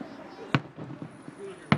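Small backyard fireworks pop nearby in a residential street, two sharp cracks about a second apart with a fainter bang between them, over low outdoor background noise.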